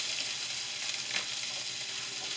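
Brown-and-serve biscuits sizzle and fry steadily in a hot pan, a dense, even crackle close up with no talking.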